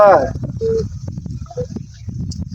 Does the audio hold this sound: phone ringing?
yes